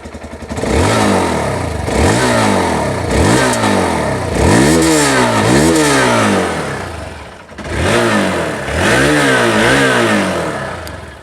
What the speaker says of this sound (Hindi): चलिए आप इसकी जो एग्जॉस्ट साउंड है वो भी मैं आप लोगों को सुना दूँ।